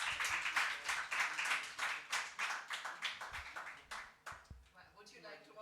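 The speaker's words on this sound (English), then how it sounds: "Can we give them a huge round of applause?" Audience applause for the speakers at a literature festival in Bhopal, heard as a rhythmic, fairly sparse run of claps that fades near the end.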